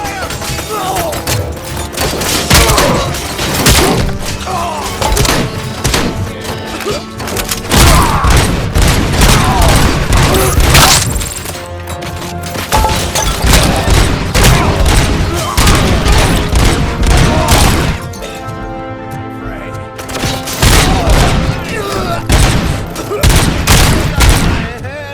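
Dense rapid gunfire and heavy booms from the Robocop: Rogue City video game, loud continuous bursts with a brief lull near the end, while voices shout over the shooting.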